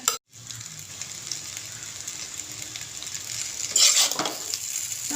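An egg fries with chow mein in a pan, giving a steady soft sizzle with occasional scraping stirs and a brief louder crackle, starting just after a short gap of silence.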